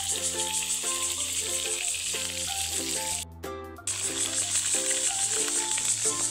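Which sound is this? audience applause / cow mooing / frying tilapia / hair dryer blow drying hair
frying tilapia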